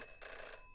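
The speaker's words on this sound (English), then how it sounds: "Pick up the phone." Brief electronic telephone ring in the video game Jenny LeClue, a faint tonal burst heard on its own.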